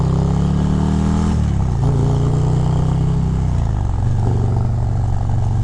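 A 2023 Harley-Davidson Road Glide ST with a Stage 4 135 engine, loud and close, revving hard as the throttle is rolled on, with a deep rumble whose pitch shifts through the run.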